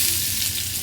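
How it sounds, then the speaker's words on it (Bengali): Onions frying in oil in a frying pan, a loud, dense, hissing sizzle held steady throughout, close up with no talking. "পেঁয়াজটা ভেজে নেব।"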